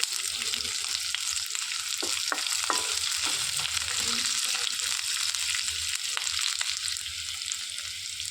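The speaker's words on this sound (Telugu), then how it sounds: "సన్నగా తరిగి పెట్టుకున్న ఆనియన్స్ వేసుకొని వేయించుకోవాలి" Thinly sliced onions fry in a pan with cloves, nutmeg and mace for a veg dum biryani, a dense constant sizzle with intermittent spoon scrapes and clinks, close and without talk.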